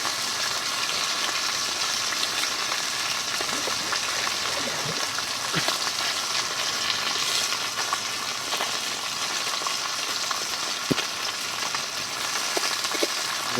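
Tilapia fish frying in oil in a wok, a steady, dense sizzling hiss that runs the whole time at even loudness, with small scattered pops and crackles and no voices.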